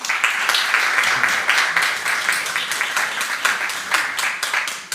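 A comedy club crowd in Bordeaux claps steadily at a stand-up show, a fairly close and lively round of applause with uneven, pulsing intensity throughout.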